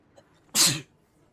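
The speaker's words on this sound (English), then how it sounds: "I'm about to sneeze." A single sharp human sneeze, close and fairly loud, bursting out after a faint breath in an otherwise quiet room.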